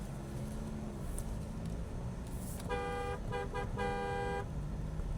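The horn of an MG Majestor SUV sounds in three loud, close bursts: a short honk, a quick tap, then a longer blast, over a low background hum.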